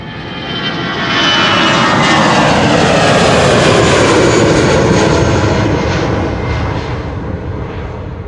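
Airliner G-EZPE, an eight-year-old jet, passes at Schiphol Airport: a loud engine roar swells in over the first second, holds full and broad for several seconds, then begins to ease as it moves away, with no voices.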